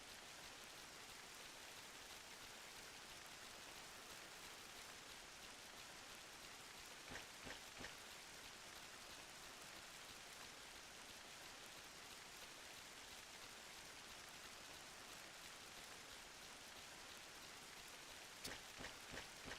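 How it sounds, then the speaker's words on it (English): Steady ambient rain in the Final Fantasy XI video game, a continuous even hiss of falling drops with a few brief louder patters, no voices. "Just the ambient sound of the rain."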